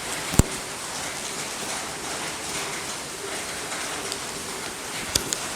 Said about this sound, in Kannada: ಈಗ ಕತ್ತಲೆ ಹಾಕಿ ಮಳೆ ಬರ್ತುಂಟು